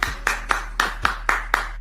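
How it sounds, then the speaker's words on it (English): A lone person clapping at a slow, steady pace, seven sharp claps spaced about a quarter second apart, close and dry with no crowd or talking. "old Dusty is the only one clapping."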